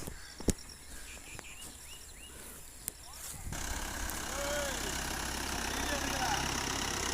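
A tractor engine runs while groundnuts are sown, a steady mid-pitched drone that grows louder partway through, with someone speaking over it.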